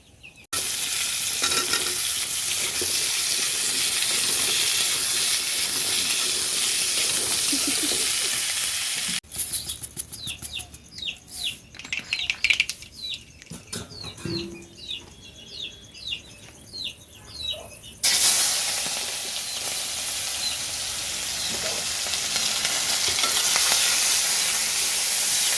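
Fish frying in hot oil, a dense steady sizzle broken midway by a stretch of stirring and spatula scrapes with sharp crackles before the full sizzle returns.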